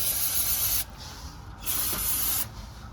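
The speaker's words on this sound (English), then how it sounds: "Now take your brake parts cleaner, spray it" Brake parts cleaner sprays from an aerosol can onto a 2015 Toyota Venza's transfer case and rear differential in two loud, steady hissing bursts with a short pause between them.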